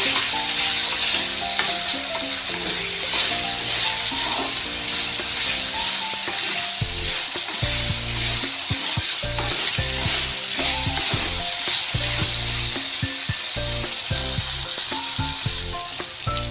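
Raw banana pieces fry in a pan, keeping up a steady, loud sizzle throughout while a utensil stirs them, producing repeated scraping and clattering in an irregular rhythm, with no talking.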